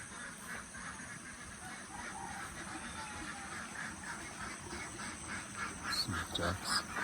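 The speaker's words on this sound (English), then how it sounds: "Some ducks." Ducks quack intermittently at a distance in an outdoor setting in Bali, small scattered calls over a constant background hum and soft ambient noise, with a few louder quacks near the end.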